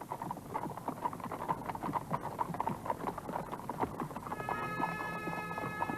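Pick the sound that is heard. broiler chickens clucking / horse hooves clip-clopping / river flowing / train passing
horse hooves clip-clopping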